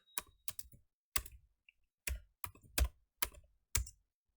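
A Django command being typed on a computer keyboard: about ten crisp, close key clicks in small irregular clusters, separated by short silent gaps, quiet and alone.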